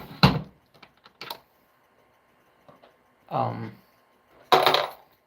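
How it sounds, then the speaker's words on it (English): A Lee Quick Trim hand tool trims brass rifle cartridge cases, giving sharp metallic clicks and short scraping bursts, close and fairly loud, in an irregular rhythm with quiet gaps between strokes. "I'm using literally just a Lee quick trim"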